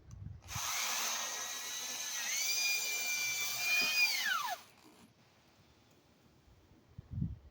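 A power drill whines steadily for about four seconds as it drives into a pre-drilled hole while building a barbecue prep area, its pitch sagging and dropping as it stops, followed by quiet handling noise.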